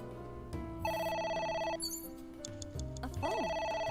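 Telephone ringing inside the video game AI: The Somnium Files, a loud repeating electronic ring in bursts over layered game music, with no talking.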